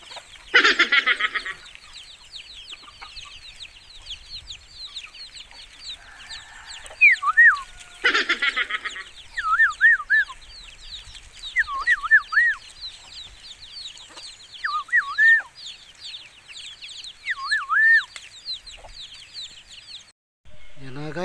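Chickens and chicks clucking outdoors as a storm comes in, with repeated short chirps and clucks over a steady windy background and occasional louder bursts.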